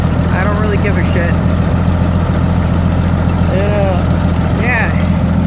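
An old car engine idles steadily after a cold start, its low rumble running continuously under intermittent voices talking close by.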